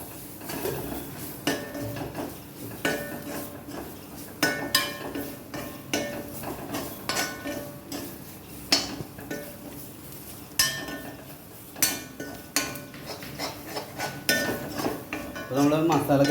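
A curry is mixed in a pan at home, with a spoon scraping and clinking against the metal in an irregular, repeated rhythm that fills the whole stretch, close up and moderately loud, with no talk over it.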